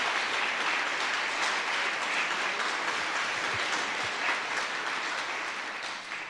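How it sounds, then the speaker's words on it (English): Audience applause for the Stanley and Arlene Ginsberg Foundation donors at a talk on the American founders, a steady broadband wash of many hands clapping that runs throughout and thins slightly toward the end. "You might stand so people can applaud you."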